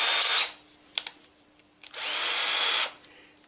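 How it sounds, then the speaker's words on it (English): A power drill drives an aluminium thread into MDF in two loud bursts, the first about half a second and the second nearly a second, with a couple of faint clicks and handling knocks in the quiet gap between them. "I suppose if I use a"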